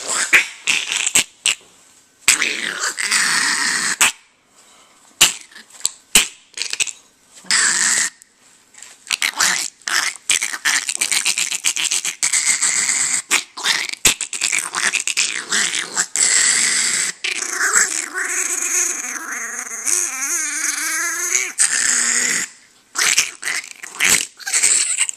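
A puppy growls and grumbles in close, uneven bursts with short gaps between them, turning into a drawn-out, wavering whine near the end.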